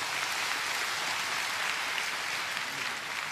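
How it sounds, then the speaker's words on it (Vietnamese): Applause from a congregation at a Catholic Mass ordaining a bishop in the Diocese of Ban Mê Thuột, a dense, steady clapping from many hands filling the whole stretch, with no talk over it. "Xin mọi người cho tràng pháo tay để chúc mừng."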